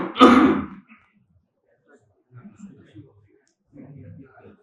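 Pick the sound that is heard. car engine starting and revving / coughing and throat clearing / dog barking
coughing and throat clearing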